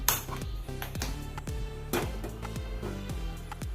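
Metal cooking vessels clank and clink against a gas stove top while a pot of cooked dal and tomato is set down, a series of sharp close metallic knocks at uneven intervals.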